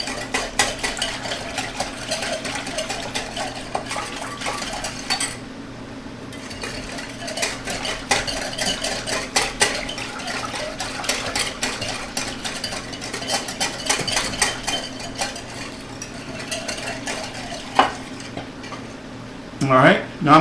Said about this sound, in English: let's just go ahead and whisk it together until the sugar dissolves